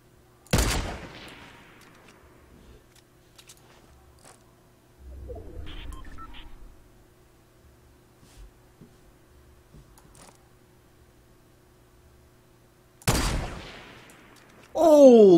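Gunshots in Fortnite crack out as two sharp, loud isolated blasts far apart, with quiet stretches and faint game sounds between them.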